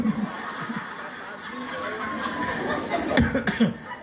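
A few sharp coughs burst out near the end, close and loud, following a stretch of murmuring voices and light chuckling from the audience at a Sundanese religious lecture.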